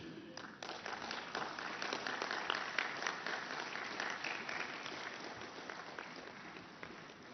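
Audience applause at a public inauguration programme with the President of India, steady dense clapping throughout, sustained at even loudness with no speech over it.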